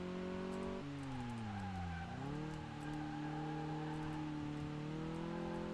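A Mini Cooper S engine in the game Car Mechanic Simulator 2018 drones steadily, its pitch dipping as the car slows and then climbing again as it accelerates, with faint tire noise.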